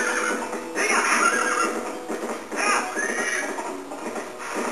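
A horse in The Legend of Zelda: Twilight Princess neighs and whinnies in two loud, shaky bursts, heard close and alone over steady game background sound.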